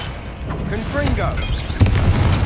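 A Confringo blasting spell bursts in Hogwarts Legacy during heavy combat, a sudden low boom near the end landing over busy game clatter and magical whooshes.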